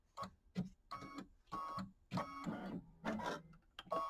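A quilting machine stitches a gnome quilt block in quiet, rhythmic bursts of mechanical whirring and clattering, stopping and starting several times in quick succession.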